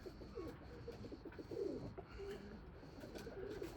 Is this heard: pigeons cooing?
yes